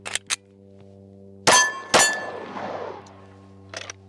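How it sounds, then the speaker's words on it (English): Pistol reload, heard as a few close sharp metallic clicks and then two loud clacks of a magazine and slide, each ringing briefly, then a couple of faint clicks in a quiet room with a low hum. "We'll practice a reload."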